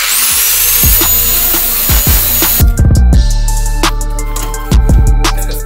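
A stuck bolt on a bicycle brake disc being cut off with a power tool: a loud, close high whine at first, then a series of sharp metallic knocks and clanks, with no talking.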